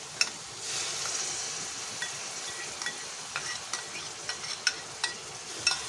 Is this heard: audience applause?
no